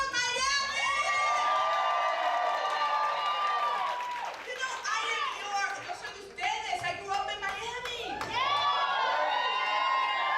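Lively audience at a comedy show cheering, whooping and shouting, loud and sustained with a brief dip midway before surging again; excited voices mingle through the crowd noise.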